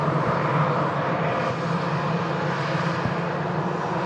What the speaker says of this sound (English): Iberia Express coming in from Madrid